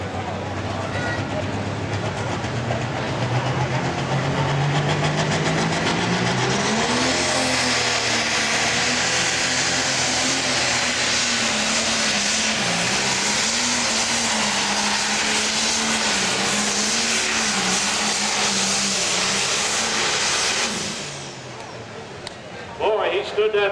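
A pro stock tractor at an Ohio tractor-pull event roars through a long, loud pull, its engine note climbing and holding at a heavy sustained drone for about twenty seconds before cutting off, with an announcer talking over it.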